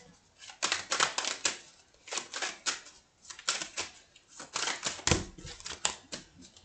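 Tarot cards are shuffled and drawn during a French horoscope reading for Gemini, giving bursts of crisp papery riffling and slapping in repeated clusters, close and moderately loud, with no talk over them.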